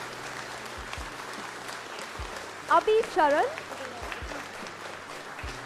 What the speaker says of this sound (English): let's give a big round of applause for all these students